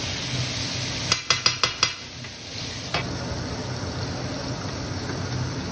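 Chicken breasts browning in a frying pan give a steady low sizzle throughout, broken by a quick run of five sharp utensil taps near the start and one more knock a little later.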